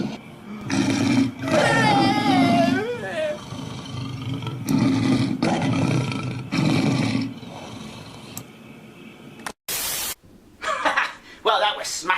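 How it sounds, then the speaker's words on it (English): A lion heads toward the listener in Africa, letting out loud, rough roars and growls in several bursts over the first half, followed by a sharp burst and quieter rumbling sounds. "over there is a lion heading right towards me"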